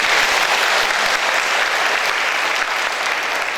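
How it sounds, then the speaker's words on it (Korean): A congregation at the opening worship service of a church retreat gives applause of thanks, dense, sustained clapping that fills the space evenly without any talk over it. "감사의 박수 드리도록 하겠습니다."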